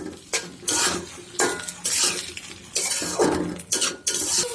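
Hot tempering (baghar) poured into cooked greens in a pot, bursts of loud sizzling hiss mixed with clanks of utensils against the pan, close and repeated.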